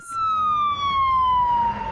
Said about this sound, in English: You know them for their lights, their sirens